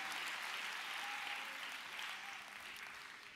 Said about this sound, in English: That's worth a hand clap and an amen from every person that's read the Bible.